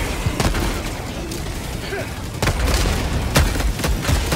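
Helldivers 2 battle against Automatons: a grenade blast and bursts of gunfire, several sharp booms and pops scattered over a dense, loud combat din, with a voice speaking in places.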